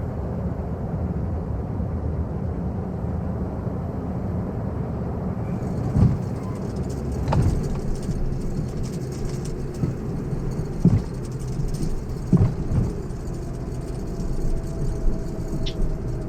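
Simulated aircraft engines throttled back to idle in Microsoft Flight Simulator 2024, a low steady drone with a few brief thumps and clicks over it, no talking.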